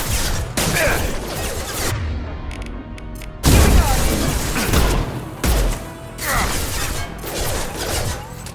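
Gunfire and explosions from the Mass Effect 2 video game, with dense bursts of shots, several heavy booming impacts and crashing debris in a loud, continuous combat mix.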